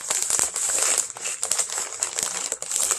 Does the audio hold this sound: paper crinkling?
yes